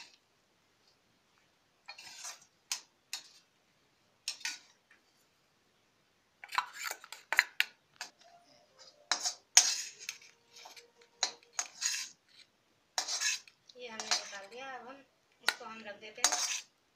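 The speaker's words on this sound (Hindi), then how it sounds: "अब हम इसे दूसरे बर्तन में निकाल देंगे।" Pea filling is scooped from one pot into another while making matar suji kachori, producing sporadic metallic scrapes and clinks of a spoon against the pot, in short bursts separated by silences.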